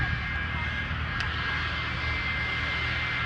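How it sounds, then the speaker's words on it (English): A jet-powered school bus, custom-built from an actual school bus, roars past at a lakeside airshow with a steady, loud, sustained jet engine rumble and hiss that continues throughout. "This is a custom-built jet bus"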